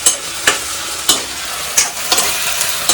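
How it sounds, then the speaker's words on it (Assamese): A spoon stirs ginger, garlic and onion masala frying in a pan, with a steady sizzle broken by several sharp scraping strokes at an irregular pace, close and loud, with no voices. "এতিয়া ধুনীয়াকৈ পুৰা বস্তুখিনি মিলাই ল'ম। আদা, নহৰু, পিঁয়াজ"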